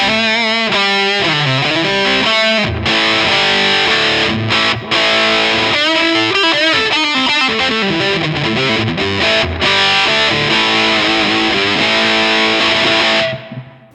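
Electric guitar driven through a Black Swamp fuzz pedal, character on smooth, hard clipping off, with controls at noon, played loud and continuous with an open, saturated tone, ringing chords and note runs before cutting off at the end.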